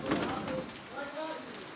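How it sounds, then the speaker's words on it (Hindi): Heavy rain pours onto a market street in Allahabad, a dense broadband hiss, while someone talks over it nearby. "ये देखें बारिश बड़ी तेज़ी के साथ आ रही है।"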